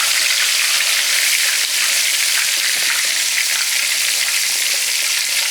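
Battered cube steak fries in a pan with a loud, steady crackling sizzle that fills the whole stretch without pause, close up and with no voices.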